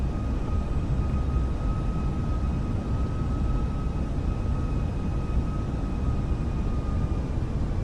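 A steady, loud aircraft engine drone from Microsoft Flight Simulator, a continuous broadband roar with faint steady tonal whines running unbroken throughout, with no talking.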